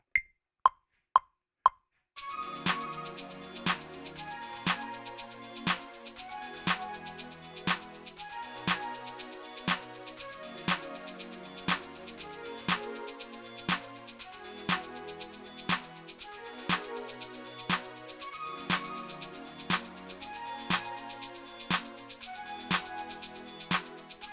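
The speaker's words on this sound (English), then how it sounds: "he's got the little rattle there going on throughout the song" Rattle percussion in a hip-hop beat remake of a track, a steady fast shaker-like pattern running throughout alongside a repeating drum loop, preceded by a few isolated hits at the start.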